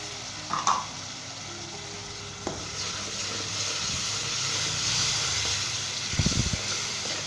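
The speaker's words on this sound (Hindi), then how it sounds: "और अच्छे तरीके के साथ 2 से 3 मिनट तक मसाले को हम भूनेंगे।" Peeled, seeded tomatoes and spices sizzle in a pan for a Punjabi pumpkin curry, a continuous steady hiss with a few knocks and a scraping stir near the end, nobody speaking.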